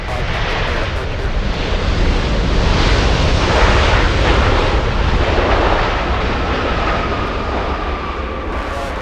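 Airliner jet engines roar during takeoff at Los Angeles International Airport, a loud broad continuous rumble that swells and slowly fades, with radio chatter faintly underneath.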